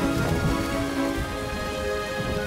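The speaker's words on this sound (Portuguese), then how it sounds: "Uau! Chuva! Corram!" Rain falls in a children's cartoon set in an autumn taiga forest, a dense steady patter beneath a sustained musical tone, with no speech.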